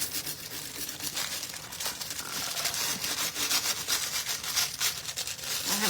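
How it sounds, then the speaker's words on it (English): Scrubbing dried foil adhesive off an ornament, a close, steady rubbing and scratching that grows slightly louder, with no talking. "So we're going to give this a scrub."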